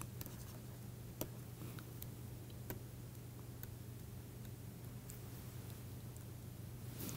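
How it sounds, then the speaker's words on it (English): Pen scratching on paper as a lecturer writes out matrix notes on a fresh page, faint continuous strokes with a few sharp taps against a steady low hum. "So I have to write in the next page. I will write."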